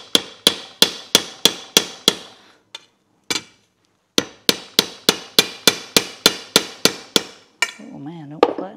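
A hammer strikes a rusty steel track anvil to flatten its surface, giving two fast runs of loud, ringing metallic blows with a short pause between them and a murmured voice at the end.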